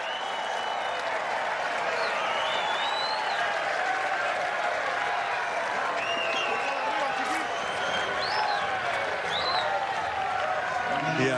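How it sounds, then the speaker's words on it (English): Fans at a Chicago Cubs vs. San Francisco Giants spring baseball game raise a dense, continuous roar of cheering and clapping, with shrill whistles and voices poking through the broad crowd wash. "Listen to him cheer."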